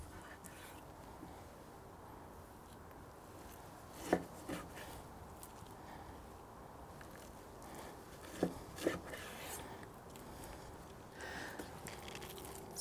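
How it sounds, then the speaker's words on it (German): A knife cuts picanha beef into pieces for a spit, leaving a few soft, isolated thuds and knocks against a board, spaced several seconds apart, faint over a quiet background. "Das heißt also, wir schneiden hier die Stücke ab."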